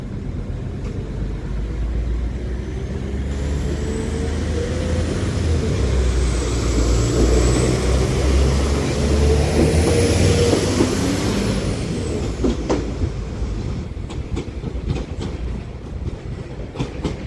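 A West Midlands Railway Class 196 diesel unit, 196006, pulls out of Leamington Spa station on a Nuneaton service. A loud, steady engine rumble and wheel noise build and hold nearby, with a high whine rising and falling.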